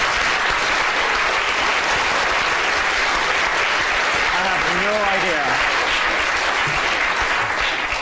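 A lecture audience breaks into a sustained round of applause, a loud dense wash of clapping that fills the whole stretch, with a brief voice rising over it midway.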